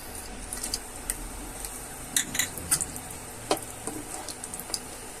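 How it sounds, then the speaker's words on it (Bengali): Whole garam masala spices drop into hot oil for Bengali bhindi posto, making a faint, steady sizzling hiss dotted with small crackles and light clinks of a utensil against the pan. "তেলটা গরম হয়ে গেলে গোটা গরম মশলাগুলো দিয়ে দেবেন।"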